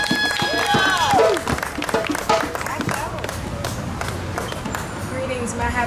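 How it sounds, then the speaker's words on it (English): An outdoor crowd at a Marcus Garvey Day celebration claps for the Sankoncious drummers, scattered and uneven, mixed with voices, shuffling, and a brief whistle-like tone early on. "Give you a round of applause to Sankoncious drummers."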